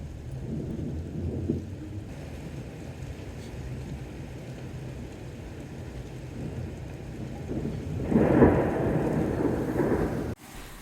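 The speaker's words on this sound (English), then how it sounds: "Sorry to interrupt the ASMR storm sounds" Rain falls steadily while low thunder rumbles, swelling louder near the end before a sudden cut.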